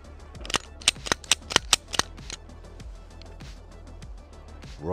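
Gunshots ring out at a public gun range in a forest: about eight sharp, loud reports in a quick irregular string, then quieter trailing shots against an outdoor background hum.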